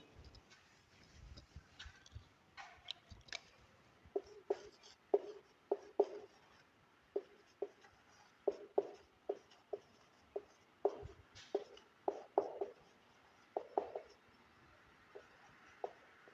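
Pen writing notes by hand, a steady run of short scratchy strokes close by, in irregular bursts with brief pauses, during a lesson on the limitations of Rutherford's atomic model.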